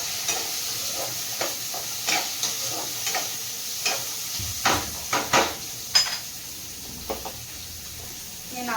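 Onions fry in a pan with a steady soft sizzle, while a utensil scrapes and taps against the metal in scattered close strokes.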